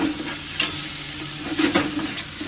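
Garlic sizzles in hot oil for a dal tadka, a steady close frying hiss with a few brief louder bursts of stirring throughout.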